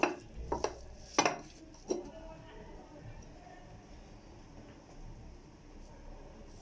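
Kofta tagine ingredients being mixed together in a dish, with a few sharp clinks and knocks early on before quieter soft stirring sounds continue at a low level.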